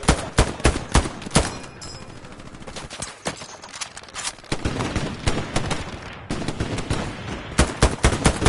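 Gunfire in the World War II shooter game Hell Let Loose: sharp close rifle and machine-gun bursts, rapid cracks at the start and end with a busier stretch of distant shots between.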